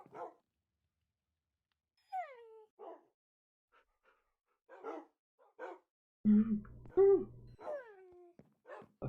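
A dog in the Minecraft video game gives a series of short barks and yips at irregular intervals, with quiet gaps between them, and a louder burst of barking near the end.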